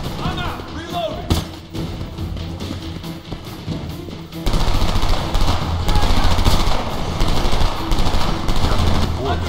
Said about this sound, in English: Got me under heavy fire.